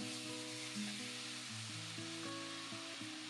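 Pork frying in caramel with garlic and shallot in a pan, a continuous soft sizzle alone under a sustained tonal hum, fairly quiet and close.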